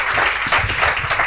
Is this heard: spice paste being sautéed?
no